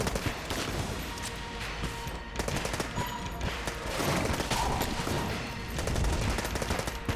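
Rapid bursts of gunfire from the bullet-hell video game Enter the Gungeon, sustained over layered game music and effects, with dense volleys running steadily throughout.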